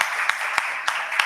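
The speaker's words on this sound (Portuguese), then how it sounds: "Vamos aplaudir o Senhor nessa noite." A church congregation applauding at an evening celebration service: dense, steady clapping from many hands, with a few sharper claps standing out at regular intervals.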